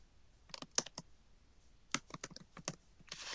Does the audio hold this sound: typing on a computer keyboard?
yes